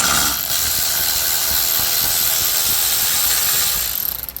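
An 8mm socket on a ratchet works the transmission plug shield bolts of a Mercedes W164 ML350 4MATIC, a fast continuous clicking of the pawl, close and loud, with no speech.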